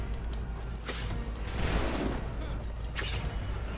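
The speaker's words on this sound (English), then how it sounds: "Gunshots don't hurt me no more." A few sharp gunshot bursts crackle over a low constant hum, spaced irregularly, gunfire in Assassin's Creed III during the Battle of the Chesapeake.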